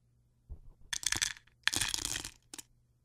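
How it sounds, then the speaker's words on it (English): Pistachios in their shells poured into a handful of pistachios, giving a few short bursts of crisp clattering and clicking, close and fairly quiet against a silent background. "It was me passing pistachios into another handful of pistachios."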